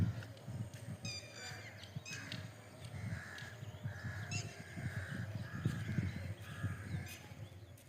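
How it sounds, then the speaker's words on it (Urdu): Crows caw repeatedly outside a village mosque amid greenery, harsh calls recurring throughout over a steady low rumble of wind and ambient noise, with other birds faintly mixed in. "پرندوں کی خوبصورت آوازیں"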